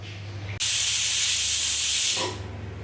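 A pressure cooker cooking cowpea curry lets off a loud, close burst of hissing steam that starts abruptly, holds steady for about a second and a half, then tapers off.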